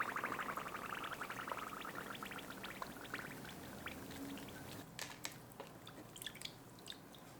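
A knitted shawl is lowered into water to soak. Close, soft pouring and sloshing give way to wet squishing and scattered drips as the fabric settles and is pressed under.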